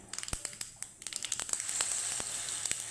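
A ladle of semolina batter hits hot white oil with black mustard seeds, setting off sharp crackling pops that build into a dense, continuous sizzle close by, with no talking.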